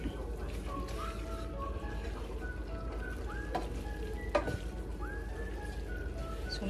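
Cooked pasta stirred into a butter garlic shrimp sauce in a pan, a low steady sizzle with soft scraping and tossing sounds, a voice speaking over it.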